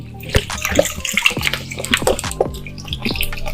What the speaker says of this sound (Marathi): कारली या प्रकारे आपल्याला धुवून घ्यायची आहे